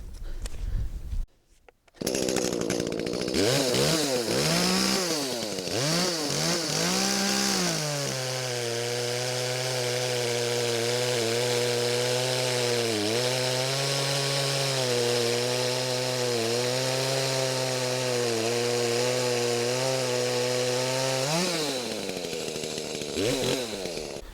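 An electric chainsaw starts with a brief sputter, revs up and runs steadily at high speed, its pitch dipping as it bites into wood, then winds down.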